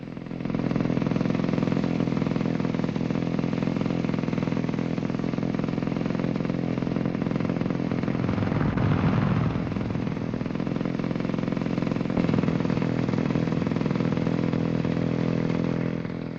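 Steady engine drone of small motorized two-wheelers running continuously, a buzzing mid-pitched motor sound with light clatter throughout.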